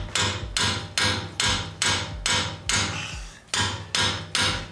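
An 18mm spanner struck like a mallet against a brake caliper bracket bolt on a Mercedes-Benz W205 C450 AMG, ringing out in about ten loud, evenly spaced metallic hits, close and alone.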